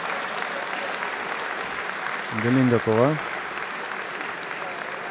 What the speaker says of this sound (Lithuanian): Žiūrovai palydė aplodismentais.